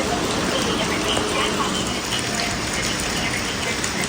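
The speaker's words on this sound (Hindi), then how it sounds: "अभी बहुत तेज बारिश हो रही है" Heavy, intense rainfall pours down in a dense, constant wash of noise, loud and close throughout with no pauses and no voices.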